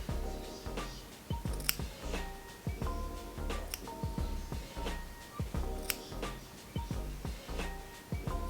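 Scissors trimming natural hair at home, cutting off the ends, give a run of quick, close, crisp snips at an uneven rhythm.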